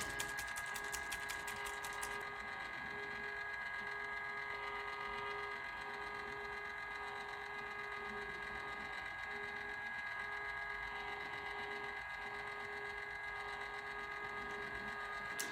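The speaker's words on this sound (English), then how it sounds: "This is my embossing heat gun." An embossing heat gun blows continuously for crafting with alcohol inks, giving a steady loud whirring hum with a constant tone, close and unbroken throughout, with no talking.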